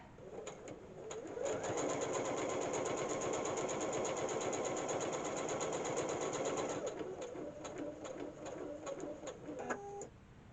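A sewing machine stitches a quilted embroidery wall hanging, a fast steady mechanical whir for several seconds that stops, then gives way to sparse clicks and a short thread-cutting clatter at the end.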